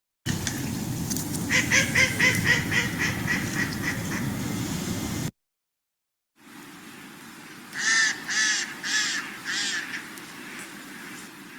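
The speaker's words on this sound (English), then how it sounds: "So let's first listen to the female quacks." Loud series of female mallard duck quacks in rapid runs, two separate bouts divided by a brief silence, with a low rumbling background beneath, in spring woods.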